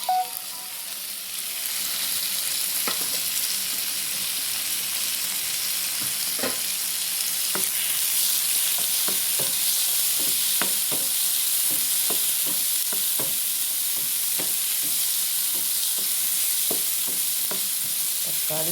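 Onions, tomato and curry leaves sauté in a hot pan: a steady, close sizzle runs throughout, broken by scattered clicks and scrapes of stirring, with no voices.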